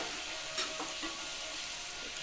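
Spices such as turmeric and coriander powder sizzle in a pan for chicken curry as a splash of water is added, a steady close hiss with faint stirring scrapes throughout.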